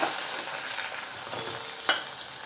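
Hot tempering poured onto a cassava snack crackles and sizzles steadily up close, with a brief sharper hiss and stir near the end.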